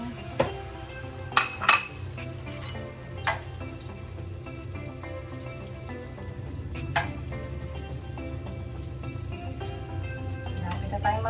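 Eggplant for torta fries in chicken oil with a steady, soft sizzle, broken by a few sharp clinks of a utensil against the pan early on and again later.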